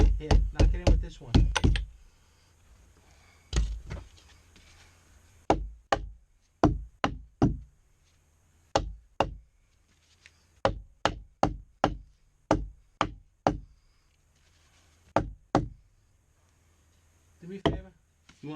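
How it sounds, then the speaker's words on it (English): A jack is knocked into place at a hunting camp: sharp, sturdy knocks come in quick bursts and spaced groups, some rapid clusters and some single blows, close and loud against a quiet room. "I'm afraid with all that knocking, you're gonna knock that fucking jack right out."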